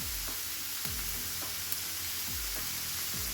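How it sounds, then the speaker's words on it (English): Ground beef and minced garlic sizzle steadily in a pan, a constant hiss of frying with occasional scraping stirs, and no talking. "Now I'm going to be adding a family pack of ground beef and 2 teaspoons of minced garlic."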